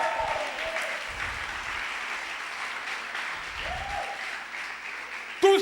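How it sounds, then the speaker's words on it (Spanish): A church congregation applauds after the preacher's call, a sustained even wash of clapping with faint tonal sounds and a brief sharp noise near the end. "El que lo crea, dele un aplauso."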